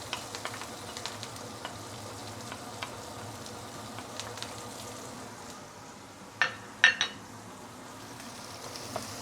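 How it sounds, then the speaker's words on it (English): Garlic, salted black beans and ginger fry in hot oil for a stew of ribs with bitter melon, a faint steady sizzle punctuated by a couple of sharp utensil clinks near the end. "Once the oil is heated up, we put in garlic, salted black bean and also ginger."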